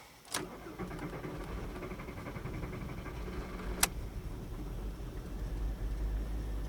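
A Volkswagen Golf Estate with a 2.3 V5 engine cranks and fires, then keeps running rough and uneven at idle, with a single sharp click partway through and no talking.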